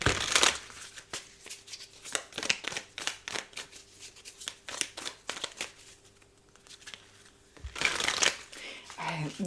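Tarot cards shuffled and handled in a series of quick riffling and flicking bursts, close and fairly soft, with brief pauses between bursts and a faint steady hum beneath.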